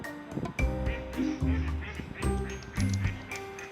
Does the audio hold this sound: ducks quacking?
yes